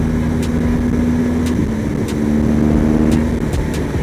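BMW R1200 GS motorcycle engine droning steadily while riding, a constant low hum with wind rush and a few faint ticks, no talking.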